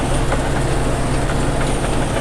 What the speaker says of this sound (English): When you're baling, you want to match your ground speed and your PTO speed